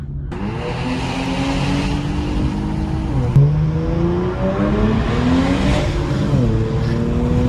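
Infiniti Q50 Red Sport with a new engine accelerating hard, heard from inside the cabin with windows cracked, a loud, steady engine roar rising through gears with brief dips at the shifts.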